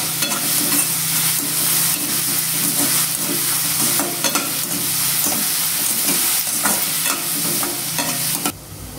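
Onions with a little salt sauté in a pan for a Tamil pea kurma, a steady loud sizzle with frequent scraping stirs throughout, no voices.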